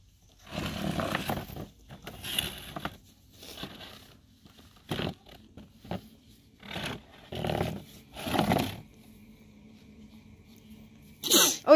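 Several short, sharp bursts spread across the clip, one close and loud sneeze among them, with rustling and faint handling noise between.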